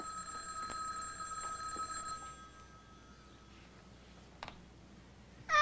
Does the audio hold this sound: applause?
no